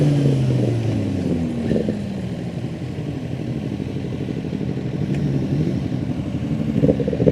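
A Kawasaki Ninja 1100 SX SE sport motorcycle pulls forward under a steady engine roar, its pitch sliding through a gear change before climbing again. The engine is close, loud and continuous.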